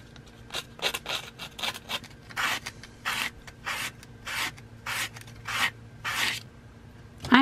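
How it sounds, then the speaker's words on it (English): Hand sanding with 220 grit sandpaper on a 1950s Black & Decker U-3 utility drill during cleaning, about fifteen short rasping strokes in an uneven rhythm, close and fairly quiet, with no speech. "I only have 220 grit sandpaper on me, so I assume this should be good enough."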